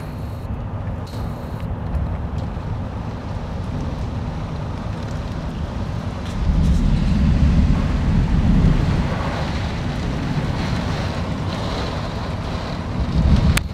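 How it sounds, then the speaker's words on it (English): A typical Florida thunderstorm roars outside, with heavy wind and rain in a continuous rush that swells louder midway, then settles back to a steady downpour. "We are getting crushed with a typical Florida thunderstorm, and it is crazy outside"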